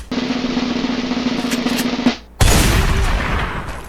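Rapid bursts of automatic gunfire in a video game, a loud sustained fusillade that cuts off briefly and then resumes even harder, dense and close.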